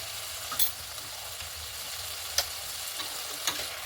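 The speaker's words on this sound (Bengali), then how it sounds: "এখন মশলাটাকে কষিয়ে নেব" Wet spice masala with slit green chilies and salt sautés in a pan for a vegetarian vegetable dish, giving a steady close sizzle broken by a few brief scraping stirs, with no talking.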